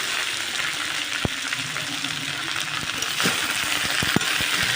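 Ghatkol leaves fry in hot oil with garlic, nigella seeds and green chilies, a continuous close hiss punctuated by sharp metallic clicks from a utensil against the pan.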